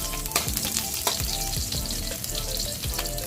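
Garlic and onions fry in a pan for an adobong manok dish. A dense, loud, continuous sizzle and crackle sits close to the listener, with no voices.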